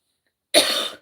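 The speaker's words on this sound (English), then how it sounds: "I'm coughing a lot" A single short, harsh cough from a woman with flu, close and fairly loud, heard alone after a moment of silence.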